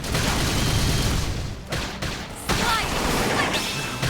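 Gunfire in the video game Xenoblade Chronicles X: a dense, continuous barrage of shots and blasts that stays loud throughout, with brief dips in the middle before the firing resumes at full strength.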